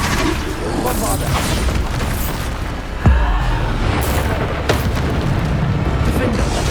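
Bombarda spell explosions in Hogwarts Legacy go off as loud, booming blasts with a sharp burst near the middle, set in dense, continuous game noise with a chanting voice over it.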